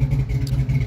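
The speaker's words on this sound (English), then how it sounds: "rev it up just a tiny bit to get the idle" A 1966 Ford Fairlane 500 two-door hardtop with a big-cam engine idling with a steady low, lumpy rumble, close and loud, with a slight rise as it is revved just a little.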